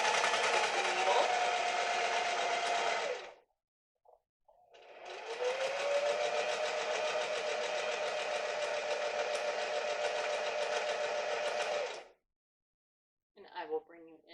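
A sewing machine stitches fabric in two long steady whirring runs, loud and close, separated by a short pause and ending in silence before a brief burst of talking.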